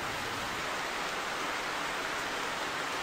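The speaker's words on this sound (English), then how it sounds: "now it's raining" Steady outdoor rain falling in an even, unbroken hiss across the whole stretch, with no voices over it.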